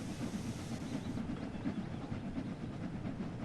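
A train in Train Sim World 6 rolling away after its brake is released: a steady low rumble with faint clickety-clack and a soft hiss, continuous and moderately quiet.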